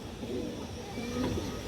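Farm pigeons coo softly in low, wavering rolling notes against a murmur of background noise.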